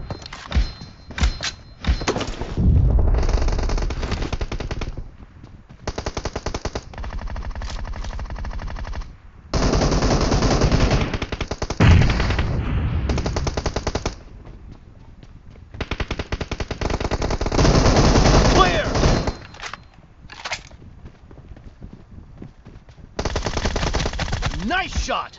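Rapid machine gun fire rattles in a video game shooter, arriving in long, loud, dense bursts separated by short pauses throughout, close and dominant.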